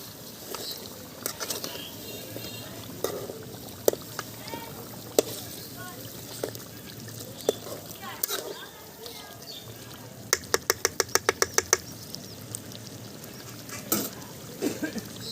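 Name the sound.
stirring chicken frying in its released oil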